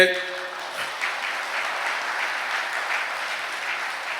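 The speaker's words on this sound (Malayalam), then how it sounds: "ഒന്നുകൂടെ കൈയുറത്ത് കൈയടിച്ചേ" A church congregation at a Catholic service claps hands together, dense and continuous applause filling the space for several seconds at a steady moderate level, with no speech over it.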